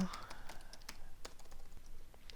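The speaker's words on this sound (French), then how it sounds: "Donc je tape mon adresse," Close, fairly quiet tapping on a computer keyboard as an email address is entered, a run of light irregular keystrokes with soft clicks spread across the moment.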